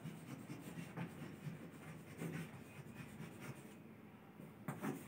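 Faint, scratchy strokes of writing on a board during a classroom lesson on organ systems, coming in short rubbing bursts at a steady pace with no talking.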